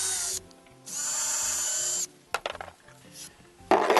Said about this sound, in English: the drill bit that you use is a 1/16. You don't have to go very far, you just got to do just enough to get it started